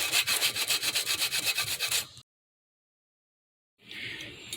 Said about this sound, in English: Okay, I finished sanding 2 of the pieces.